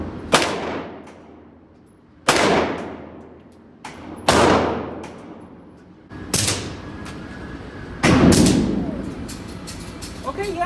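Gunshots from a Glock 19 Gen 4 pistol fitted with a CAA Micro Conversion Kit at an outdoor range, five loud, sharp reports spaced about two seconds apart, each with a long ringing decay.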